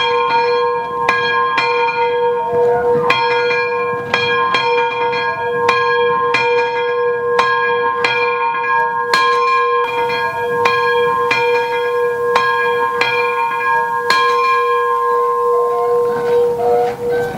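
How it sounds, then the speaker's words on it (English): A preserved steam locomotive's bell is rung by hand, clanging loud and close in a steady repeated rhythm of strikes, each ring leaving a long metallic tone that carries under the next. "you can even ring the locomotive's bell as well"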